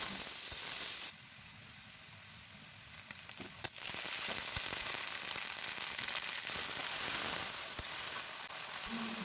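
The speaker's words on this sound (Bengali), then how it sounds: "এখন পেঁয়াজ আর রসুন কুচি দিয়ে দিলাম, এগুলো খুব সুন্দর করে ভেজে নেব।" Chopped onion and garlic fry in hot oil with a steady, bright sizzle and hiss, briefly quieting then swelling back with occasional clinks of a utensil, close and continuous with no talking.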